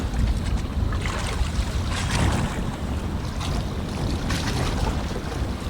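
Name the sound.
wind blowing over the sea on a fishing boat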